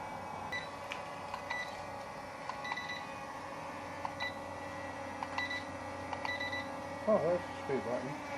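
Short beeps from a drone's remote controller as the speed setting is changed, sounding in small groups over steady background hiss outdoors at night, with a voice speaking briefly near the end.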